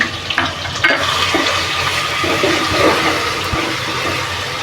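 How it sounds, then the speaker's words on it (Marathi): Ginger and garlic hit well-heated oil in a pan for a prawn and potato masala gravy, giving a loud, rushing sizzle that starts with a few sharp crackles and then holds steady. "आता आपण आलं लसूण टाकूया तेल चांगलं तापलेलं"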